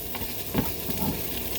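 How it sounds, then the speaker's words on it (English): Sausage sizzles in a frying pan with a constant close hiss, and a couple of soft stirring scrapes stand out against it. No one speaks. "We'll let that melt for a little bit while we cook this sausage still"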